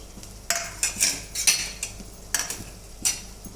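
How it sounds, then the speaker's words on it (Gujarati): Green garlic is added to dal tadka in a pan, making sharp metallic clinks and scrapes of a spoon against the pan, heard as several distinct taps and stirs over a soft background. "હવે એમાં હું થોડું લીલું લસણ એડ કરું છું"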